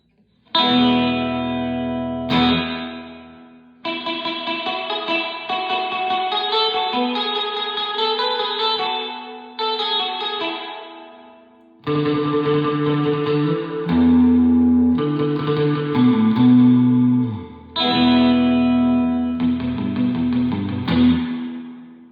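Electric guitar runs through a Surfy Industries SurfyBear Compact reverb pedal with dwell turned all the way up, so strummed chords and picked lines carry a heavy, splashy spring reverb across several loud passages with brief gaps between them.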